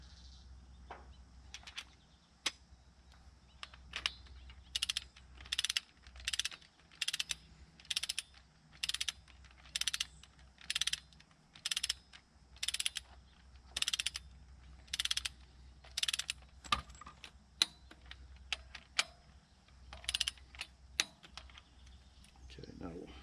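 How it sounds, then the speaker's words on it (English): A torque wrench ratchets fuel injector bolts, producing repeated bursts of clicking in a steady rhythm at moderate distance over a low background hum. "these are going to get torqued to approximately 90 pounds, and we will take that down in a couple stages"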